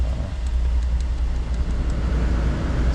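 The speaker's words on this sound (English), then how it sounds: "Sweet, the blower motor works." A 2012 Buick Enclave's AC blower motor runs with a steady, close low-pitched hum and airy rush, continuous and unchanging.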